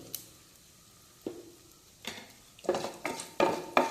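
Asafoetida powder stirred into hot ghee and oil while cooking chole masala, giving a faint sizzle under a series of sharp utensil scrapes and clinks against the pan, coming quicker and louder toward the end.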